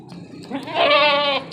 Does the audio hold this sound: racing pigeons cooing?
no